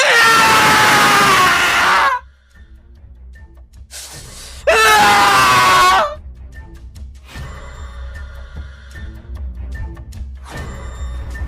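A man screams loudly in pain twice, each a long harsh cry of about two seconds, with quieter gasping and groaning between and after the screams.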